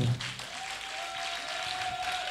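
A church congregation applauds at a Sunday service, a steady wash of clapping from many hands filling the room, fairly loud and continuous with a sustained tone ringing faintly beneath it.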